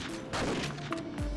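Gunfire from a shotgun in the Geneshift top-down shooter game, several sharp synthetic blasts in quick succession over a busy game soundscape.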